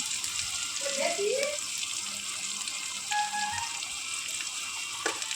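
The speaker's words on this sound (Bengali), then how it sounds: "তো এটাকে ভালো করে কষাতে থাকবো যাতে কোনো কাঁচা গন্ধ না থাকে" Spices sizzling in hot oil in a pan while cooking doi katla, a Bengali curd-based rohu fish curry, giving a steady soft hiss with a few faint clinks and scrapes, no voice.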